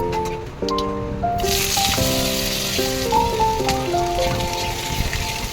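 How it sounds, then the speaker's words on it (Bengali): Potatoes frying in hot oil with dried chili and cumin, a loud close sizzle with crackling spatter running throughout, under background music. "এবার তাতে শুকনো লঙ্কা ও জিরে ফোড়ন দিয়ে আলুগুলো দিয়ে ভালোভাবে ভেজে নেব"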